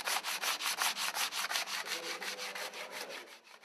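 Steady back-and-forth sanding on a wooden boat being built in Pāvilosta, Latvia: a rhythmic run of about twenty close, even abrasive strokes, alone with no voices.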